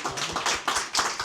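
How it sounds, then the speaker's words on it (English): Audience applause after a rough screening panel, a short burst of several sharp, uneven hand claps close by rather than a full roar. "Can we have another round of applause?"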